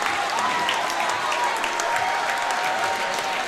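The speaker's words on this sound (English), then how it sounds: "Wausau West crowd to our right on our Zaleski Sports cameras will celebrate this victory." The Wausau West crowd cheers and applauds steadily after a boys' high school basketball regional semifinal win over DC Everest. The dense clapping and crowd noise fill a gym, and a faint voice can be heard underneath.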